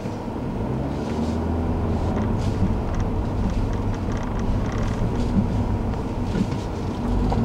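A 2014 Ford Fiesta's small 1.6-litre four-cylinder engine running with a smooth, steady exhaust drone and some wind rush, constant throughout with no breaks.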